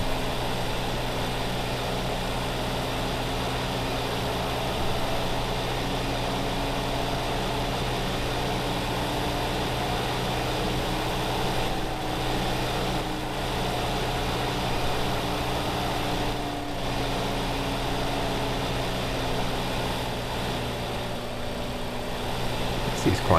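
A small tractor in Farming Simulator 2015 labors through deep field ruts in four-wheel drive, its engine droning steadily and loudly for the whole stretch with a low continuous hum and no pauses.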